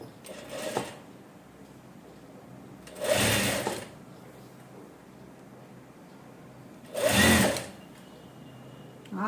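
Sewing machine stitching a blouse in short bursts: three brief whirring runs of stitching separated by quiet pauses, close and fairly soft.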